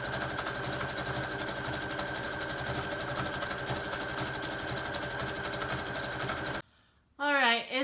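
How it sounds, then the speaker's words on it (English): A sewing machine stitches steadily through a junk journal cover, a close, continuous mechanical whir with a rapid even rhythm, stopping near the end before a voice briefly speaks. "let's try to at least get this sewn on."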